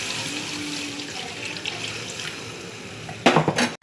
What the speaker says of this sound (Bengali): ঝোলের জন্য জল দিয়ে দিচ্ছি।